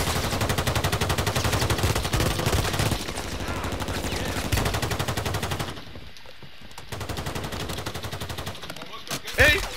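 Rapid automatic gunfire in a Call of Duty match, dense repeated shots for several seconds, then a brief lull and a few scattered shots near the end.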